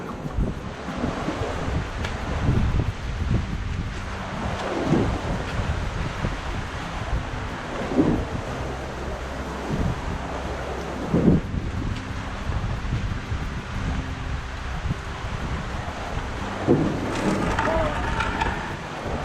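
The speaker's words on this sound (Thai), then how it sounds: "คลื่นใหญ่มากเลย" Heavy sea waves surge and break repeatedly beneath strong, blustery wind buffeting the microphone during daytime shore fishing, a loud, continuous roar with periodic swells.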